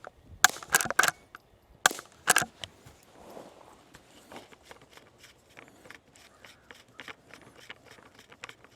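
Two pairs of sharp, loud suppressed gunshots from a rifle fitted with an AAC Pindrop suppressor crack up close, followed by softer clinks, shuffling and scraping movement.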